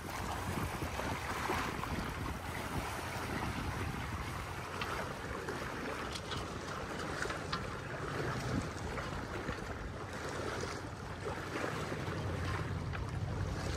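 A sailboat at sea off the coast, with steady wind rushing across the microphone and water washing against the hull as the front sail is raised; no voices, just continuous, fairly quiet ambience.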